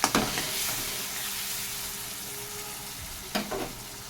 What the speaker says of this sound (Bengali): এর মধ্যে কিছু গুঁড়ো মশলা দিচ্ছি।